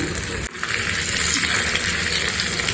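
Ginger garlic paste hitting hot oil for mango pickle, a loud steady sizzle and hiss after a brief dip, continuing evenly.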